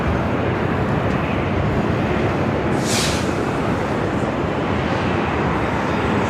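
JetBlue airliner arriving from JFK at Los Angeles International Airport, a constant broad engine roar at steady loudness with a brief brighter whine midway.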